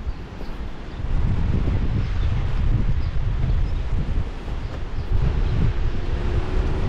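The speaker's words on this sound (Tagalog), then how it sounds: "Malakas ang hangin talaga." Loud, constant gusts batter the microphone on the shore of Weymouth Beach, New Zealand, with the rough sea churning underneath in a dense, unbroken roar.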